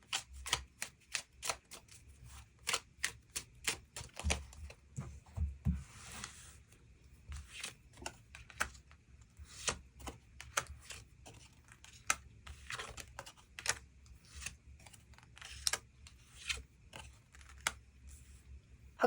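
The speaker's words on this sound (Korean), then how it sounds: "그 부분 추가 카드 뽑아보도록 하겠습니다" Tarot cards are shuffled and drawn by hand, giving a long run of crisp, close card snaps and riffles in irregular bursts with quieter handling between them.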